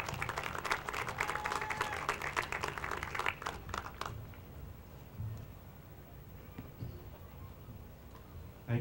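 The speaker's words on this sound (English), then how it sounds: "I want you all to give a nice round of applause for our superintendent of schools, Mr. Gilberto Gonzalez." A graduation crowd at a high school ceremony breaks into dense clapping for about four seconds, then falls away to a quiet hall with a few scattered claps.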